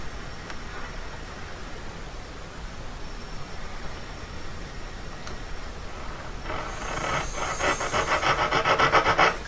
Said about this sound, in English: I just lined up a thin saw blade on my mark. I just started off with a little nick in all of them.